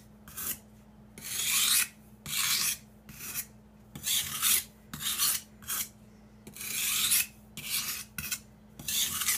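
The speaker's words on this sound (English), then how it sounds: "This is that final sanding moment" A knife blade is sanded in its final sharpening stage, giving about a dozen gentle rhythmic rasping strokes, close and fairly soft, with short pauses between them and no talk.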